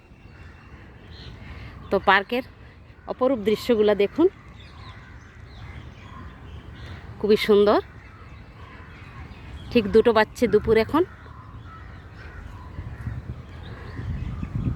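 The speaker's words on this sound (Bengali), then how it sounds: "আর পাখির আওয়াজ" Birds call in Lalbagh Botanical Park in Bangalore, sharp caws and calls in short clustered bursts at moderate distance over a quiet outdoor background, while someone talks between them.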